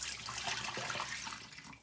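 Two pints of water poured into a cooking pot for pepper water, a brief, fairly quiet splashing rush that tapers off.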